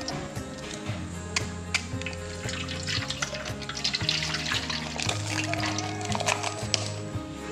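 Torpedo drink pours into a pot for cooking noodles as fishing bait, a steady splashing trickle with faint clinks and drips, close and continuous.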